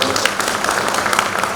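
An audience of former classmates claims at a school get-together, a dense burst of many hands clapping at moderate volume that runs through the whole moment, with some speech mixed in.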